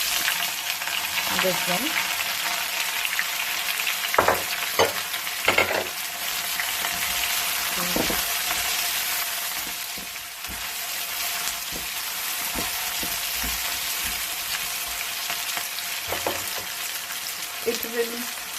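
Three medium onions, finely sliced, sizzle and fry steadily in a pan, with occasional stirring clatter and a brief spoken remark over the hiss.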